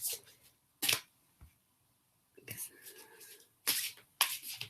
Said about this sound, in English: So if you just shuffle the cards.